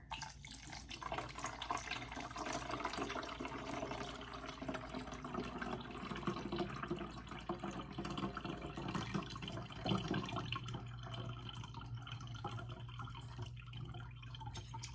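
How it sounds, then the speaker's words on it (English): Cranberry juice pours steadily and trickles through a strainer over cranberries for a long stretch, a soft continuous splashing with occasional drips near the end. "I'm actually going to pour that over the batch of cranberries that is inside the strainer"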